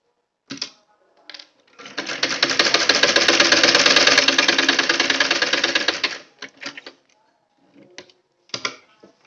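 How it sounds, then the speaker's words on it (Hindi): A sewing machine stitching a sleeve, a loud close rapid mechanical run of about four seconds, bracketed by short clicks and brief bursts of stitching before and after. "अब यहाँ से हमने सिलाई स्टार्ट करनी है।"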